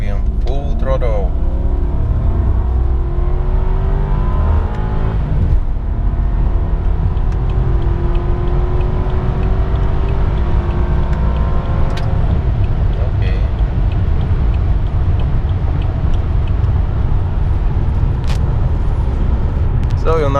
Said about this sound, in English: Can show you from second gear full throttle.